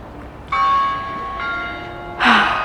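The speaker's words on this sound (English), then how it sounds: "There's the town bell again." A town bell rings out clearly in two sustained tolls that hang and decay, loud and close, followed by a breathy gasp-like sound.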